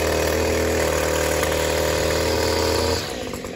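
Lawn mower engine running at half speed, a steady close mid-pitched drone that drops in level near the end, no voices.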